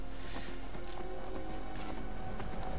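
A horse's hooves clip-clop at a steady trotting pace in Skyrim, soft and fairly distant over a low, constant background drone.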